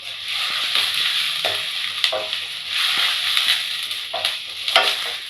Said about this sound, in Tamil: இஞ்சி பூண்டு பேஸ்ட் நல்லா பச்சை வாடை போகிற வரைக்கும் வதக்கி விட்டுக்கோங்க